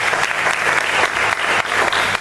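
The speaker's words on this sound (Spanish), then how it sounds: "Vamos a dar un aplauso al Señor por la vida de la familia." A church congregation applauds during a Spanish-language service, a brief burst of loud, dense clapping from many people that stays strong for the whole moment.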